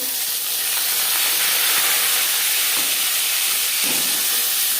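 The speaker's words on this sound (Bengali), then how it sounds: "কড়াইতে আবারও তেল দিয়েছি দিয়ে দিলাম পাঁচফোড়ন" Panch phoron spices hit hot oil in a wok with a loud, steady hiss and crackle that holds from start to finish, close and without speech.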